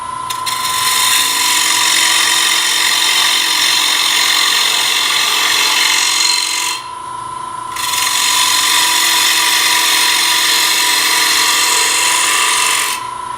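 A wooden bowl is turned on a lathe with a bowl gouge, giving a loud, steady cutting hiss that drops out briefly midway and then resumes with the same intensity. No one speaks.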